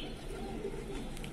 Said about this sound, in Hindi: आप देख सकते हो कबूतर कितना प्यारा कबूतर है